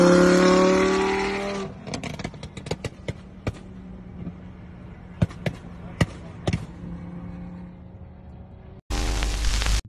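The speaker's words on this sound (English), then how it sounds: "Backfire while racing down the highway. Small flames and pops from this afterfire." Race car on a highway: loud engine roar fades, then a series of sharp backfire pops and cracks from afterfire, irregular and close, before a sudden burst of roaring engine noise at the end.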